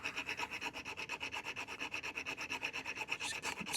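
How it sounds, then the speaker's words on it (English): Steady back-and-forth sanding strokes rasp on a throttle quadrant part for a flight-simulator throttle lever build, a close, continuous rhythmic rubbing of about eight strokes per second with no voices. "Just keep sanding"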